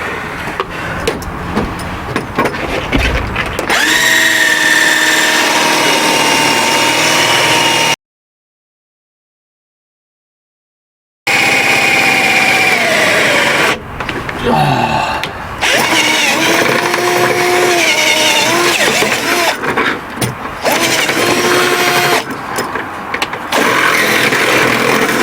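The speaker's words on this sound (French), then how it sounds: "Là, je suis en train de percer comme ça de biais" A power drill bores at an angle inside a Renault Trafic van, a loud whining motor that revs in bursts, pausing with a short silence partway through, with some rattling and handling noise.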